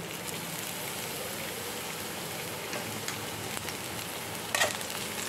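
Capsicum frying with garlic in a pan, a steady close crackling sizzle that holds even throughout, with a brief louder burst of spattering near the end.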